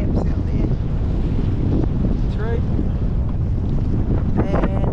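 Strong, steady wind gusts buffet the microphone aboard a small sailboat with mizzen, jib and main sails out at sea among whitecaps, a constant roar with water wash beneath and a few faint creaks.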